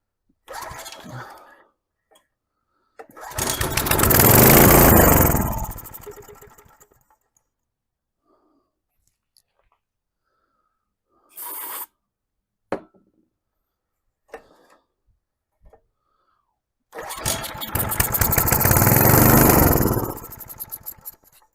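A small tiller engine being pulled over and started, with two loud bursts of running engine noise several seconds long, separated by quiet gaps, brief clunks and short sputters.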